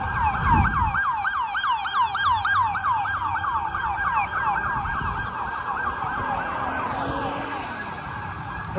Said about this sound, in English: Heard a lot of sirens down here.